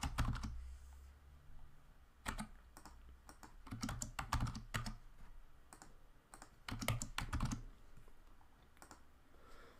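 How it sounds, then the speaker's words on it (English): Fingers tap out usernames on a computer keyboard in quick clustered bursts of clicking keystrokes, close and fairly quiet, with short pauses between words. "So I'm going to type some usernames that I want to test the URL against."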